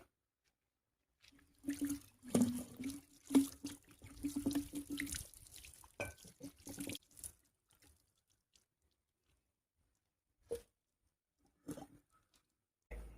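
A dusty glass jar being rinsed out with tap water: splashing and sloshing close by for several seconds, then a few faint scattered drips and clinks before near silence.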